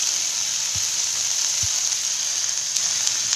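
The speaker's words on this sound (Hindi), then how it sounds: "अब ये हल्दी डाल दिया मैंने इसके अंदर." Turmeric hits hot oil in a pan and sizzles in a steady, loud hiss throughout, with a couple of faint low knocks from the pan and no talking.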